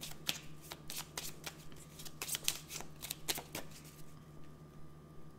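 Tarot cards riffled and shuffled in quick bursts of crisp fluttering, then a softer pause as the deck is cut, close and fairly quiet over a steady low background hum.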